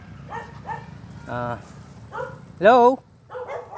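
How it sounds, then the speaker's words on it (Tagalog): Several dogs bark in short, loud yaps near a creek in a rural area, with one sharp, strong bark standing out. A person calls out a brief greeting among the barks. "Maraming aso, hindi ako makapasok."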